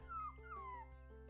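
A dog in a dog shelter video game gives two brief whining yips over a low steady background hum, quiet and short.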